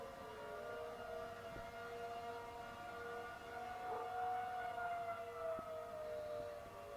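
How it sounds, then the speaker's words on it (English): An electromechanical civil defense tornado siren of the early-1950s type wails from far off, its long, eerie tone slowly rising and falling in pitch. The sound is sustained and faint, with no voices. "the OG civil defense siren, the one from the early 50s"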